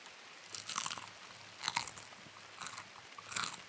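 Three loud, crisp crunches of teeth biting into homemade fried wontons, spaced about a second apart and close up, with soft chewing between bites and no talking.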